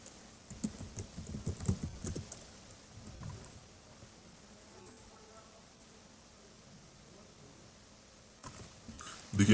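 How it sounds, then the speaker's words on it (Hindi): Keys tapped on a computer keyboard while text is typed into a Photoshop web design, a quick burst of clicks at the start, then sparse taps and quiet room noise, ending in a louder clatter. "और टेक्स्ट टाइप कर देते हैं।"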